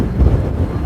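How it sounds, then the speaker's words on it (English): Wind gusting across an exposed, grey hilltop on the South Downs Way, a steady low rumbling buffet that fills the short stretch with no voices. "it's got very grey and windy up here"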